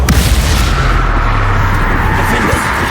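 A loud, dense burst of magical spell-fire in Hogwarts Legacy during a fight at a goblin camp, a continuous booming, crackling blast with low rumbling thuds throughout, sustained for about three seconds.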